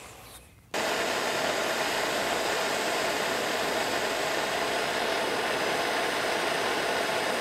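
A torch flame roars steadily while heating a copper pipe joint for soldering. It bursts on after a brief quiet moment and holds as a loud, constant hiss to the end.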